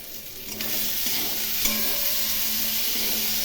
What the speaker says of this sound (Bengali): এখন খুব ভালো করে কষিয়ে নেব মাঝে একটু জল দেব এর মধ্যে জল দিয়ে মশলাগুলো ভালো করে ভেজে নেবো